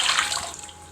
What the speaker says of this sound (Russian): Набираем сюда воду.